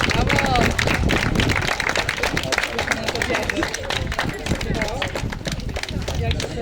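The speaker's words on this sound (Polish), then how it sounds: "I brawa i oklaski dla całej trójki." Spectators at a Katyń memorial historical run applaud the race winners with steady clapping, mixed with crowd chatter and a voice talking over it, loud and close for several seconds.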